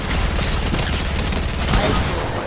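Dense submachine-gun fire in an online shooter game, sustained overlapping bursts forming a loud continuous clatter throughout, with voices faintly mixed in.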